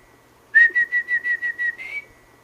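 A soft, steady whistled tone pulsing in about eight quick, even bursts, close and clear against a quiet background, used to prompt hatching kiwi chicks.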